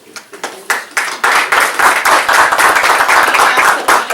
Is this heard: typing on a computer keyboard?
no